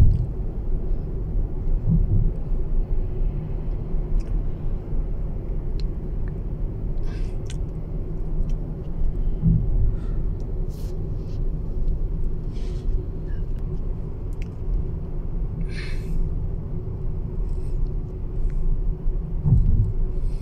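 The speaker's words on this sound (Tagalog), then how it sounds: "Traffic pa rin ang daan pag hapon." Afternoon traffic rolls along Khalid bin Al-Walid Street in Riyadh, a continuous low rumble of car engines and tires with occasional louder passing vehicles and faint higher clatters, steady throughout with no talking.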